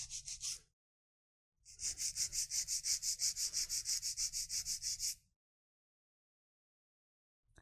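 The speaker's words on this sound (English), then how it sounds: "I'm going to hold my file straight up and down. I'm going to taper it in so it comes straight out." Nail file filing a fingernail into a coffin shape: a quick, rhythmic series of close scratchy strokes lasting several seconds, preceded by a short burst and then silence.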